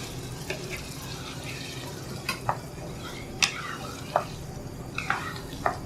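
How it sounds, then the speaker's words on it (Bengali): Boiled, mashed taro greens go into a pan with fried hilsa fish head and get stirred, a continuous soft sizzle broken by several sharp clicks and scrapes of a utensil against the pan, heard up close. "এখন আমি এর মধ্যে আগে থেকে যে কচু শাক সিদ্ধ করে গালিয়ে রেখেছিলাম সেগুলো ঢেলে দিচ্ছি।"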